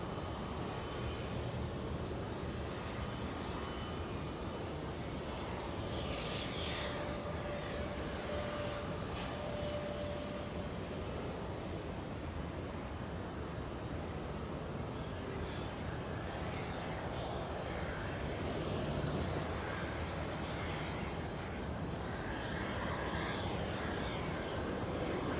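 A Delta Boeing 737 jet landing at LAX sounds as a steady, broad engine roar that stays at a distance and builds slightly toward the end, with no talking.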